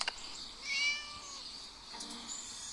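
Cartoon cat meowing in the video game Scary Teacher 3D, one drawn-out mew with a rising and falling pitch, followed by a fainter second call, clear and close.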